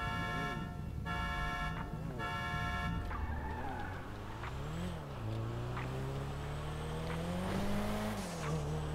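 Cars racing in GTA 5 with engines revving and roaring, pitch sweeping up and down as they accelerate, plus a couple of stacked horn tones near the start, loud and continuous throughout.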